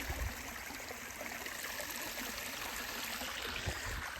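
Water of a jungle waterfall stream near Manikgad Fort rushes in a steady, close, broadband roar with no pauses and no voices.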